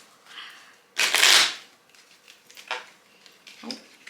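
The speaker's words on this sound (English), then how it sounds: "I'm going to go ahead and give these a good little shuffle real quick." A deck of playing cards is shuffled in one loud riffle burst near the start, followed by softer scattered card rustles and flicks, close up with no talk.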